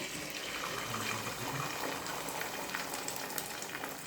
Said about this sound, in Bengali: এবার এর মধ্যে, এই তেলের মধ্যে যে ডিমটা দিয়ে দিচ্ছি